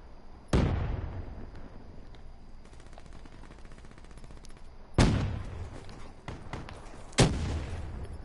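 A frag grenade blows up in a video game: three loud, booming blasts spaced several seconds apart, each decaying into a rumble, with sharp gunfire crackle scattered between them.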